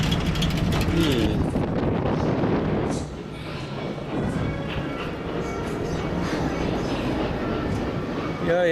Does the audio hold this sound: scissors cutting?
no